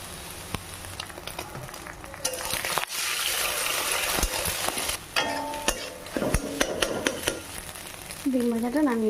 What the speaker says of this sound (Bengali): এবার এটাকে নামিয়ে ডিমটা ভেজে নেব